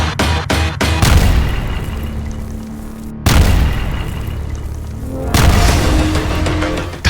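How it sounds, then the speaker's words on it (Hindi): Missile strikes on Gaza at night boom in three heavy explosions, each a sudden loud blast that rolls into a long rumbling decay, with quick crackling pops before the first. "धमाका इतना जोरदार था"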